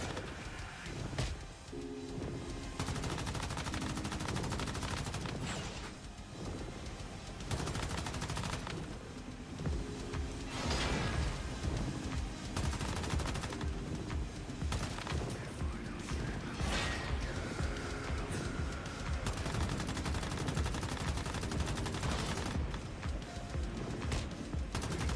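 Sustained automatic gunfire in the survival shooter Once Human, with rapid bursts of shots running almost continuously at close, loud range and only brief pauses between volleys.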